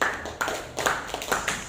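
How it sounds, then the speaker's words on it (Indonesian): Students in a classroom clap for a group, a short burst of brisk, uneven handclaps close by, with a few sharp individual claps standing out. "Tepuk tangan untuk kelompok ini."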